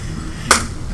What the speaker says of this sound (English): Okay, thanks for that one clap.